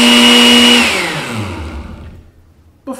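A blender whirs at full speed purifying onions for a carne asada marinade, then its motor winds down and fades to near silence, followed by a short clunk at the end.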